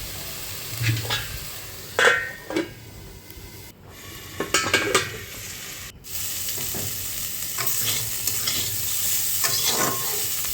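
Bitter gourd stir-fries in a pan, with a steady loud sizzle and scraping strokes of a spatula against the metal in irregular bursts, the frying hiss swelling toward the end with no talking.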